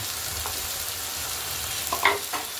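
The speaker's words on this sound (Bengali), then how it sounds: "মশলাটা ভালো করে কষিয়ে নেবো" Ground spices (chili, cumin, coriander) frying in a pan for a Bengali tengra fish curry give a steady close sizzle, with a few brief scraping stir sounds near the end.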